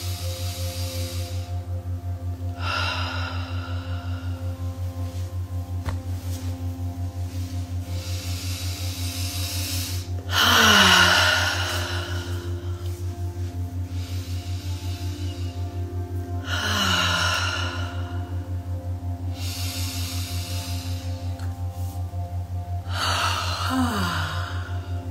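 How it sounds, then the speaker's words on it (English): A person yawning during guided breath work, with three or four drawn-out breathy yawns spread across the stretch, each with a falling vocal slide, over a steady low hum and no talk. "Yawn during breath work, that's okay."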